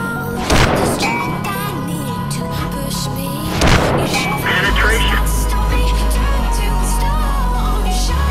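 Two heavy tank gunshots in World of Tanks boom out close and loud, each a sharp blast with a rolling tail, followed by a low sustained engine rumble.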